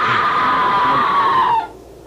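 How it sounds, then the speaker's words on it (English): A loud, sustained scream in a radio drama set at a manor house, one long shrill cry lasting about a second and a half before cutting off abruptly into quiet. "Oh, what scream! There it is again!"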